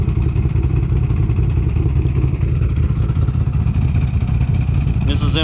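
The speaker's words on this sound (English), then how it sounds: "This is actually a race bike, so this is the one that he's going to be racing." GNCC Pro 4x4 race quad engine running steadily and loudly at a riders' testing camp, a constant close-range drone from start to finish.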